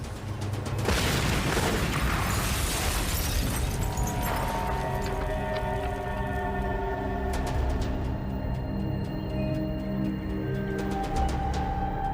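A fused explosive charge detonates with a loud, broadband boom about a second in, followed by a long rumbling, crackling aftermath with ringing debris and mechanical tones fading over several seconds.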